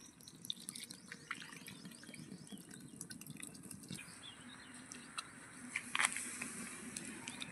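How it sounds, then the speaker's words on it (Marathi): Chopped leafy greens being washed in water, with soft drips, splashes and sloshing that swell louder near the end, close by and with no talking. "यामध्ये आता पाणी टाकून स्वच्छ धुवून घ्यायचं आहे"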